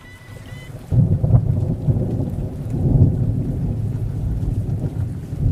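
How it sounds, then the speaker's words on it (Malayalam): Heavy monsoon rain pours down with a deep rumble of thunder that rises suddenly after a quiet start, then a loud, continuous downpour, with no voices. "ആഹാ, എന്താ മഴ"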